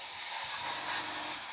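Airbrush spraying paint through a 0.3 nozzle with the air turned up, giving a steady, close, broadband hiss that runs unbroken for the whole moment with no voices.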